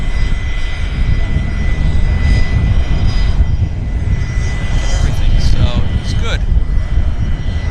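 A WestJet airliner flies over Vancouver airport with a steady, loud engine roar rumbling continuously, while a person speaks briefly over it.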